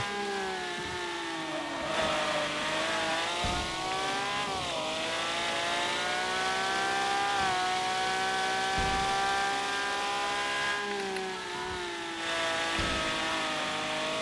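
Car engine and gearbox in the video game Screw Drivers: a steady, loud motor drone with harmonics sliding up and down through gear changes, punctuated by brief clunks, running continuously throughout.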